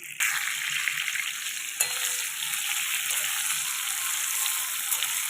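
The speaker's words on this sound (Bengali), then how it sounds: "এটাকে এবার আমি আগে একটু ফ্রাই করতে দিই" Bengali mango chutney with panch phoron fries in a pan, giving a dense, even sizzle close up that runs throughout, with one sharp knock of a utensil early on.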